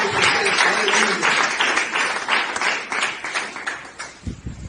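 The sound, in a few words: congregation applause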